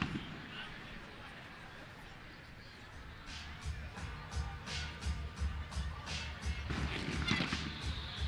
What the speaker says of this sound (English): As we've got fireworks going on somewhere nearby.